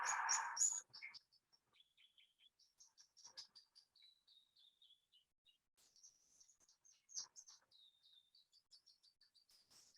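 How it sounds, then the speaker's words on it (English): A New Zealand robin, or toutouwai, sings a run of thin, high whistled phrases at forest margins, clear against quiet with brief pauses between notes, following a louder burst at the start. "the other one is a tutawai or robin."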